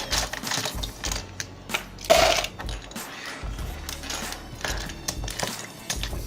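Plastic puzzle cube pieces such as the core and caps being dropped and shuffled into a container, a busy clatter of small hard clicks and taps, close, with one louder rattle partway through and no speech.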